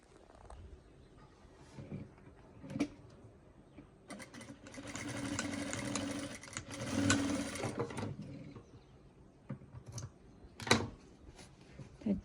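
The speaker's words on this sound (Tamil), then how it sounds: "இதோட நான் இது தைக்க போகிறேன்" A sewing machine stitches elastic in one steady, fast whirring run of a few seconds, fairly quiet and close, with soft handling clicks and rustles before and after.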